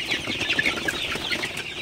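Sonali super hybrid chickens cluck steadily at night in a poultry shed, a close, continuous chatter of overlapping clucks with no talk.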